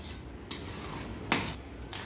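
A spoon stirs mango chutney with dry spices in a pot over a low gas flame, with two sharp metallic clinks against the pot amid soft scraping.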